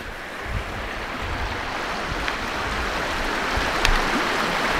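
Water flows in Bay Creek, a wild, scenic creek in the Shawnee National Forest, a continuous broadband rush with a steady loudness, with occasional faint knocks and some wind noise on the microphone.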